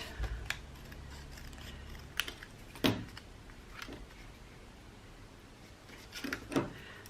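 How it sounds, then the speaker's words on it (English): Paper for a Christmas junk journal pocket page is cut in a few brief, crisp snips spread across a quiet stretch, close by and alone. "And then I'm just going to cut that"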